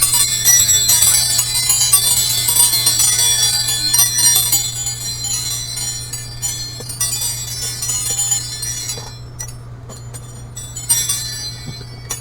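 A metal wind chime given as a Father's Day gift rings in a dense shimmer of overlapping high tones, loud and close, over a steady low hum, slowly thinning toward the end.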